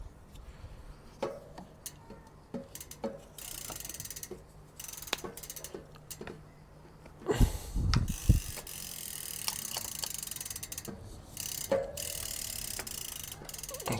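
Ratcheting clicks from a hand tool tightening a bolt during installation of a 5000W 72V CYC X1 Pro Gen 4 motor on an electric bike, sounding as a steady series of close mechanical ticks with a louder clunk midway.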